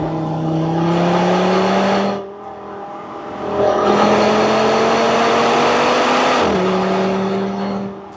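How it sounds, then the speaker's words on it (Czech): Audi RS3 engine settling from high cold-start revs, then pulling away slowly: a steady loud drone with a dip and gradually rising pitch as the car drives off, no talking. "Auto mě mezi tím spadne z těch studených vyšších otáček, no a potom pomalu vyjedu"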